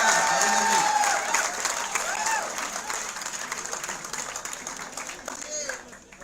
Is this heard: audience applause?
yes